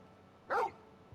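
A single short dog bark in Final Fantasy XVI, clear and fairly close, rising alone above a quiet background.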